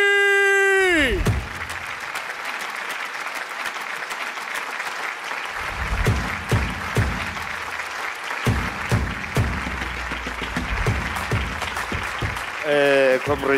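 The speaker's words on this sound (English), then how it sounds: "please give it up for half man, half amazing, the legend, Kagiso KG Kilogram Mukhari!" A large audience at a comedy awards show bursts into sustained, loud applause with cheering, following a swelling announcer's tone, the clapping dense and continuous across the room.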